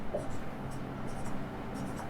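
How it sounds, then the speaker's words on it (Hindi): Handwriting while working a maths polynomial problem, soft intermittent scratches of strokes in short bursts over a low background hum. "यहां लिख देता हूं"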